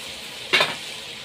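Lentils tipped into a pan of sizzling onion-tomato masala, a single brief hiss and splash over a steady low frying sizzle.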